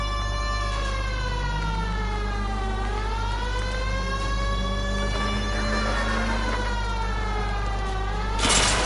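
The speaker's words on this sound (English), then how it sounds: "You hear a police siren, you just turn to the right, turn to your left lane." Police siren in the LA Noire video game, a wailing tone rising and falling steadily over a constant low engine drone, loud and close throughout, with a brief burst of noise at the very end.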